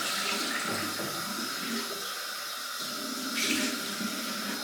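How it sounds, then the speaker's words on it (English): Cold water runs steadily from a bathroom tap during a shaving rinse, a continuous close hiss and splash with a slight surge near the end and no talking. "Cold water rinse."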